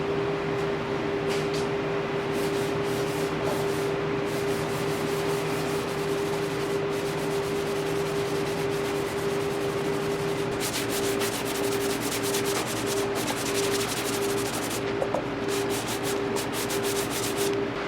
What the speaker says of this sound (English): I need to sand this pine stave back.